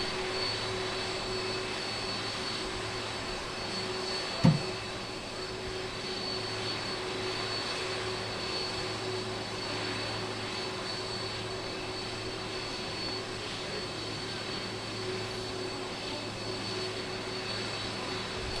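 Boeing 747 jet engines idling on the runway at Manchester Airport near the visitor park, a continuous loud roar and whine with one sharp thump partway through, no voices.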